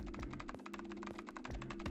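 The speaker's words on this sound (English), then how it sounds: "Nice ASMR keyboard as well, isn't it?" Rapid, crisp keystrokes patter on a computer keyboard in the puzzle game 9 Hours 9 Persons 9 Doors, a quick irregular run of clicks over a steady low hum, soft and close.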